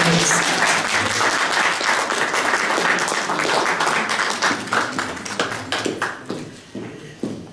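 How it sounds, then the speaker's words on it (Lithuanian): Group applause at a school quiz marking Lithuanian Independence Day, starting as a dense wash of clapping and thinning into scattered individual claps toward the end. "Pirmieji plojimai"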